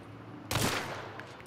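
A sudden loud gunshot in the Hunt: Showdown video game cracks out of near silence, then its echo and reverberation trail off across the next second, with a faint later pop.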